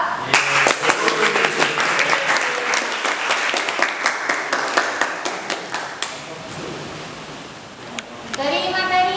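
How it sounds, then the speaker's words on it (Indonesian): Students in a classroom applaud a group of classmates, a brisk round of clapping that holds for about six seconds, tapers off, and is followed by a voice speaking. "Jadi tepuk tangan untuk kelompok 2."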